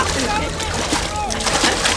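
A man falling into water in a Malayalam movie scene makes continuous splashing and sloshing noise, close and loud, with excited shouting voices over it throughout.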